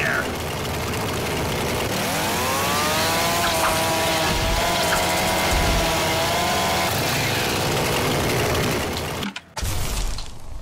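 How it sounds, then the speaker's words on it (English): A chainsaw in the video game Garry's Mod roars loudly and continuously, its engine whine rising and wavering in pitch midway before cutting out abruptly near the end. "Chainsaw."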